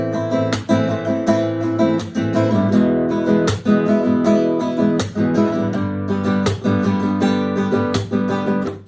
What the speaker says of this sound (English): we're using your fist to hit the strings